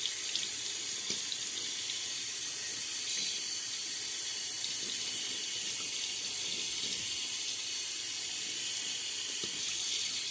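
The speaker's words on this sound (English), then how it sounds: "Just gonna get the bristles nice and wet." Running tap water pours steadily into a sink as a shaving brush's bristles are wetted beneath it, a continuous close hiss and splash with no talking.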